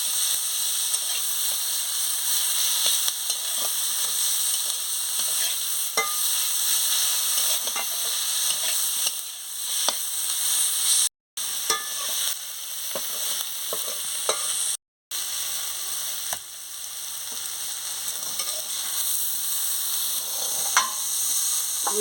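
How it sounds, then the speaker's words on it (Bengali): Pumpkin leaves fry in a little oil while being stirred, a steady loud sizzle and hiss with repeated scraping stir strokes throughout, briefly cut to silence twice. "সামান্য একটু তেল দিয়ে দিচ্ছি। দেখুন কীভাবে আমি নাড়াচ্ছি।"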